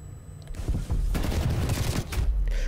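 SMG fire in Black Ops Cold War, several rapid bursts of close automatic gunfire with sharp cracks and echoing tails, the shots coming in clusters over a short stretch.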